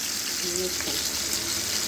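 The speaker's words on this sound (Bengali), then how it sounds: "তেলটা গরম হয়ে গেছে এখন আমি মাছগুলো দিয়ে দেবো" Koi fish being laid into hot oil in a home kitchen pan, giving a steady broadband sizzle throughout with a few faint clinks, fairly close and continuous, with a voice murmuring faintly under it.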